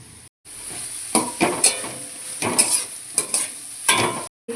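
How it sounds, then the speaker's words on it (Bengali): Chopped onion and capsicum frying in a pan with a little salt: a steady bright sizzle broken by repeated scraping stirs of a spatula, close and loud, with brief pauses. "পেঁয়াজ আর ক্যাপসিকাম কুচিগুলোকে ভেজে নেব ভালো করে"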